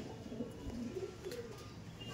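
A single Chini Kaldom pigeon coos softly a few times in a faint, hollow rhythm against a quiet background.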